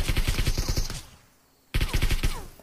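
Rapid automatic gunfire in a PUBG game rattles out in two loud, close bursts of evenly spaced shots separated by a short silent gap, with no voices over it.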